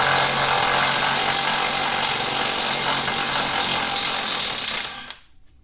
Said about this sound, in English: Let's remove those bolts.